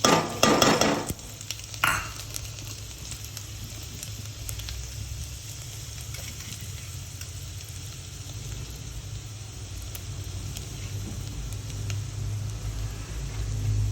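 Garlic, mustard seeds, cumin, asafoetida and turmeric hit hot oil while tempering urad dal, a steady soft sizzle that holds throughout after a few clinks of a spoon at the start.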